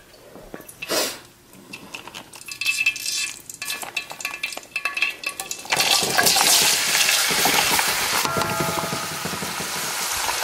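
Onion tipped into hot oil for a spinach stew, cooking on high heat: bursts of knocking and clatter open, then from about six seconds a loud, steady broadband sizzle takes over and holds to the end.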